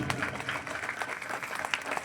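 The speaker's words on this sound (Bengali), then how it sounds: "স্কুল অ্যান্ড কলেজের কর্তৃপক্ষের জন্য একটা করতালি আহ্বান করছি" Audience clapping at a school and college event, a steady patter of many hands sustained for about two seconds, moderately loud and continuous with no voices over it.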